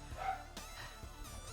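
Daisy the dog lets out a couple of brief, soft barks close together in a quiet room, low in level with a faint hum behind.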